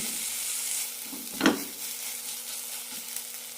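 Ginger garlic paste sizzling in a frying pan for mutta pori egg snacks, a steady hiss of hot oil with one brief clink of a spoon partway through.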